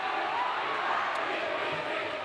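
A high school boys' basketball crowd in a gym at Lehi during a tense final minute keeps up a steady roar of cheering and murmur, with a faint squeak from the court.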